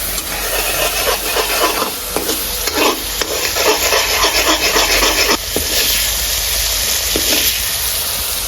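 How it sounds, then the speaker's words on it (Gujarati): Oil and red chili cooking in a pan on a gas stove for a broad-bean vegetable dish, a loud close sizzle with constant rhythmic stirring and scraping strokes. "ગેસ પર મૂકી દઈએ આપણે તેલ મરચું પકવવા"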